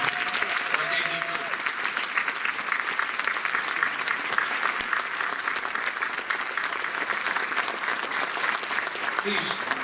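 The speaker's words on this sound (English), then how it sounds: "Let's have a big round of applause for the VFW and" A large crowd at a swearing-in ceremony applauds the VFW after the colors are retired, dense steady clapping throughout while a voice speaks briefly over it.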